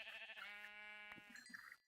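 Sheep bleating in the Minecraft video game, one long wavering bleat followed by a shorter one, clear and close with no talk over it.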